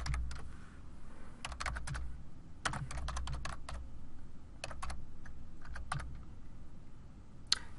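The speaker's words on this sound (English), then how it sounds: "So from here, we're going to type our name." Fingers typing on a computer keyboard, bursts of quick clicking keystrokes in short irregular runs separated by pauses, close and clear with no speech.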